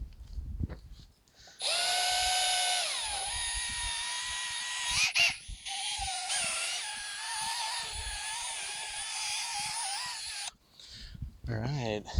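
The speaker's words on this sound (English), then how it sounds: "we're polishing out the 500 grit swirls that are in it" A drill-driven polishing pad works an oxidized car headlight lens after 500 grit sanding, using a Pittsburgh Automotive Deluxe lens renewal kit. It makes a loud, steady motor whine that dips and shifts in pitch as pressure changes, with short pauses between passes.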